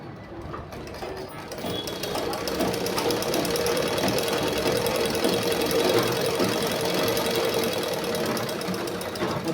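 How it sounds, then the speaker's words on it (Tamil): Sewing machine stitching a blouse, running continuously with a fast, even mechanical chatter, close and fairly loud, starting up and holding speed throughout. "நம்ம தைக்கிறது வந்து நீட்டாக இருக்கணும்."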